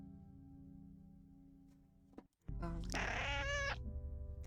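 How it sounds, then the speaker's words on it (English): A cat meows loudly and close for about a second in the video game Summerween, breaking in after a brief lull in low background music. "That was a cat noise"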